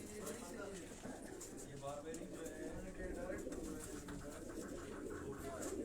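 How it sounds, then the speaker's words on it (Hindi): Pigeons coo in soft, repeated throaty calls at close range, mixed with faint chirps, while someone talks over them throughout. "ये उनके घर के ये गिफ्टेड कबूतर हैं।"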